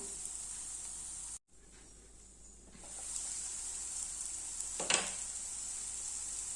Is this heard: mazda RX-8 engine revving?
no